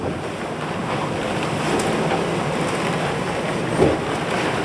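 Continuous rushing sea and wind noise from a catamaran in 30-knot winds and 3-metre seas, broad and steady, with wind buffeting the microphone and a brief splash of spray near the end.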